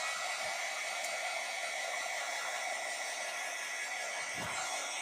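A heat gun blows hot air onto a chocolate bunny, making a steady, faint hiss of airflow that runs without a break, with a couple of soft low bumps.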